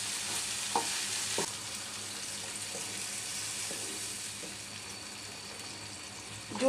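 Potatoes fry in a pan with a soft, steady sizzle, joined by a few light knocks and scrapes of stirring early on.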